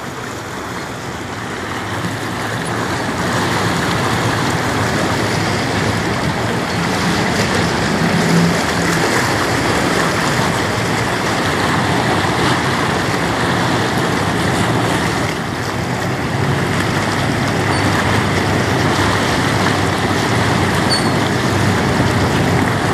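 The 225 m bulk carrier Algoma Equinox passes on the Great Lakes beneath the Blue Water Bridges, heard as a continuous broadband rush of water and wind with a low engine rumble, steady and loud with no talk.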